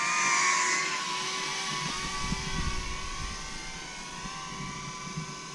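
FPV drones flying overhead out in the bush give a steady, fairly loud high-pitched whine with shifting tones, holding throughout with slight swells and no talk.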